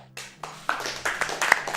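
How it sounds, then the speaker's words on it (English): Scattered hand claps from a small audience at a speedrunning convention, sparse and uneven at first and picking up into light applause, fairly quiet and close. "Can we get some clapping for that?"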